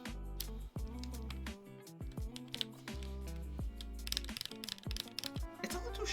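Rapid clacky typing on a mechanical keyboard fitted with Glorious Panda tactile switches, sharp and hard-sounding, with close, dense keystrokes and occasional heavier thocks of a spacebar in a steady flurry.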